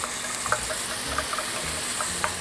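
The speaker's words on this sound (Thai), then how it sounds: "เราทำการผัดเต้าเจี้ยวกับหมูตรงนี้" Pork is stir-fried with spoonfuls of fermented soybean paste in a pan before any water is added, giving a quiet, steady sizzle with light spatula scrapes and taps at irregular intervals.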